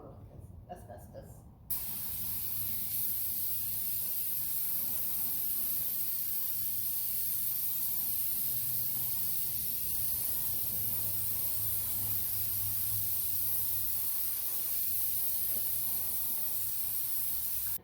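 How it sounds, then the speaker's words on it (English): Brake cleaner sprayed onto brake parts on a 1969 F150 in a small shop, with a long continuous close hiss following a short opening noise, steady and alone. "you just want to cover it and want to have brake clean"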